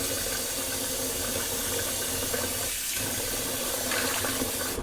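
Water swishing and splashing in a shaving bowl as a razor is rinsed around in it, a steady wet hiss and trickle close by with heavy rain audible in the background.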